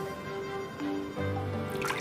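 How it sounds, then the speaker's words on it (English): Water pouring into a glass as a Nintendo Switch HD Rumble demonstration effect, a soft continuous liquid trickle with small drips and gurgles, steady and close throughout. "And you can feel water filling the glass."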